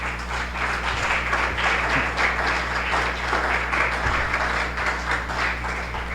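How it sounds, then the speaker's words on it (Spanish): Church congregation applauding during a sermon, a broad, even patter of many hands heard at moderate distance over a constant low hum throughout. "¿Por qué no le das un aplauso al Señor?"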